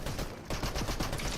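Rapid bursts of submachine gun fire from a video game, dense and continuous with crackling repeated shots across the whole moment, loud and close.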